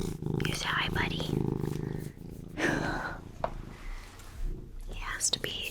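Waffle, a pet cat, purrs loudly and steadily close by, a low continuous rumble running under soft whispered talk.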